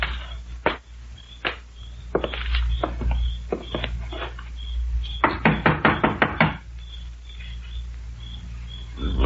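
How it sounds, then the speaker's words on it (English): Radio drama sound effect of knocking on a wooden door at a deserted house, sharp raps in several separate bursts, including a quick run of knocks, close and loud over a steady low hum. "Well, let's try knocking."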